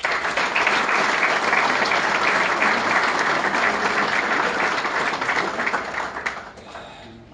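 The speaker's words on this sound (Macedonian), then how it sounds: "Еден аплауз за него." Sustained applause from an audience at a book promotion for the monograph "60 Years of Vitaminka", dense steady clapping filling the room before fading out near the end.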